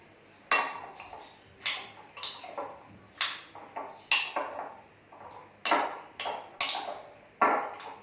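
Chicken pieces being mixed with salt and chili powder in a bowl for Chicken 65, with irregular close clinks and knocks of a utensil against the bowl, fairly quiet with short gaps, no talking.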